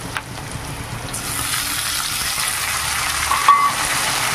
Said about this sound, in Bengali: এবার আমি দিয়ে দেবো টমেটো কুচি।